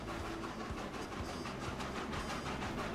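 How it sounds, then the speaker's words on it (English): A locomotive hauling a log train in the Transport Fever 2 video game rumbles steadily along the tracks with a dense, continuous roar and faint rhythmic rail clatter, loud and without voices. "I like the sound of the locomotive."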